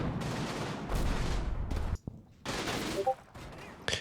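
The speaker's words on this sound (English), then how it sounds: "starts to put some cannon fire up into the church tower" Cannon fire from the Combat Mission war game, aimed at a church tower, comes as heavy booming bursts with a short quiet gap midway, then further loud blasts with some faint tones beneath.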